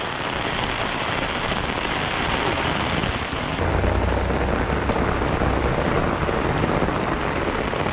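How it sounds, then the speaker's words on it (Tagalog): Heavy rain pours down steadily and loudly, a dense broadband wash that grows fuller partway through, with a low rumble underneath and no voices. "Dami ang ulan."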